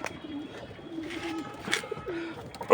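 Low pigeon coos roll on steadily in a loft, a few close calls repeating under light clatter and a sharper knock near the end.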